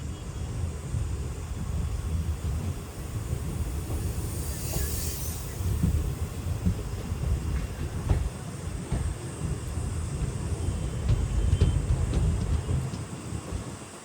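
Passenger train 57407 from Guntakal to Markapur Road rumbles along the track with a steady heavy roar, clattering wheels and brief hissing squeals, loud and close throughout.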